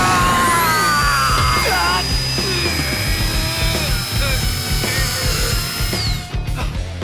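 Whirring cartoon drill attack effect from a superhero animation, a shrill spinning tone with grinding power-tool buzz over several seconds, layered with other effects and music.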